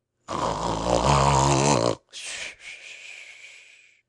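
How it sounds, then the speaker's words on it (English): Tommy Brock the badger snores in a long, rasping inhale followed by shorter snorting breaths, close and loud, with no one speaking over it; the snoring may be voiced by a narrator. "but still Tommy Brock snored regularly and never moved, except in one eye."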